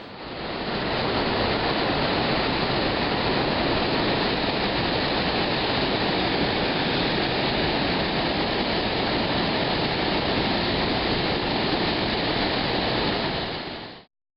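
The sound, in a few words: waterfall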